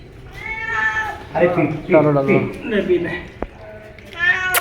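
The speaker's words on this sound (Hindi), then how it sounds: "दरगाह पर है एक बिल्ली, बेचारी बहुत ज़्यादा भूखी है" A hungry cat at a dargah meows repeatedly while being given milk, its cries clear and close, mixed with people talking nearby.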